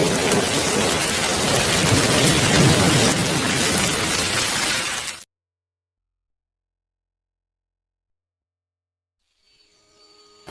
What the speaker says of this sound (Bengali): বাইরে ভালোই বৃষ্টি পড়ছে।